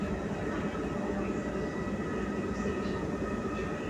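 Inside an MRT-3 metro train in motion, a steady loud rumble of wheels and carriage noise continues without break, with faint talk in the background.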